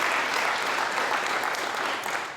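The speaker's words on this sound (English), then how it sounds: "first let's clap for Jenny." An audience at a scholarship award ceremony claps steadily, a dense wash of applause that tapers slightly toward the end with no talk.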